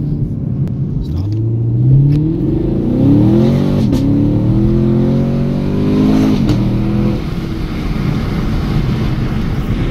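A 2016 Chevrolet Camaro SS engine revs up hard, several rising pulls over roughly ten seconds with a loud, deep, close rumble that climbs, drops back and climbs again.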